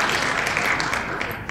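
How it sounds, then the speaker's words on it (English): A round of applause, continuous dense clapping at moderate loudness held steadily for a moment, with no voices on top. "I think I do deserve a round of applause."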